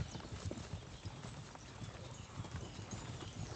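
Hoofbeats of a white horse in Kingdom Come: Deliverance 2, a steady clip-clop rhythm of repeated steps throughout, close and moderately loud over a dense game background.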